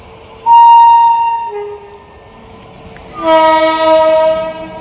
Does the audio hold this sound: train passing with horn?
yes